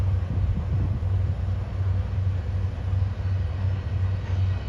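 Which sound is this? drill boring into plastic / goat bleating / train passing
train passing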